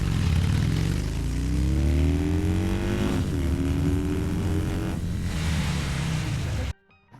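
A Harley-Davidson Road King motorcycle launches and accelerates hard, its loud close engine roar rising steadily in pitch through the gears for several seconds before cutting off abruptly, with no talking.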